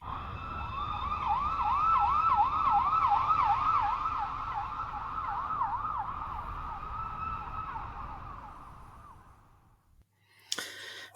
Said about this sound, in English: if they've got their own music and they want sort of urban siren effects like this one